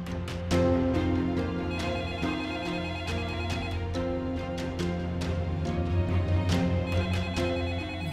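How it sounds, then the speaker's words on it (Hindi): A phone ringtone plays a repeating melodic tone pattern in a drama scene, clear and steady with rhythmic chime-like strikes and no talking over it. "ना इन लोगों के फोन क्यों आ रहे हैं?"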